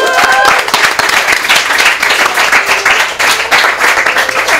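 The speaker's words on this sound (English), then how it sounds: "Big round of applause" Close, loud audience clapping fills the room at a live show, a brisk continuous round with scattered cheers and some voices mixed in.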